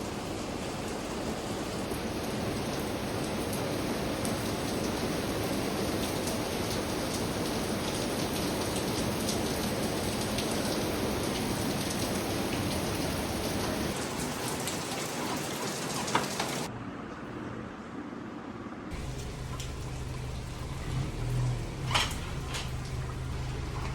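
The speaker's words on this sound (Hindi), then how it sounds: "ऊपर से बारिश भी हो रही है।" Steady, heavy rain pours down in a dense hiss for a long stretch, briefly muffled partway through, then continuing with a few knocks and thuds.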